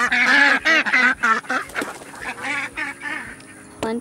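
Farm ducks quack in a rapid series of loud, close calls, some overlapping in a noisy chorus, then trailing off into a few scattered quacks.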